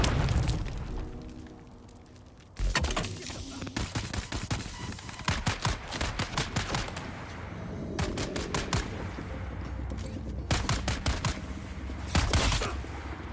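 Grenade explosion and gunfire in a video game, dense bursts of rapid shots and booming blasts, loud and close, with rattling fire continuing throughout and a heavy blast near the end.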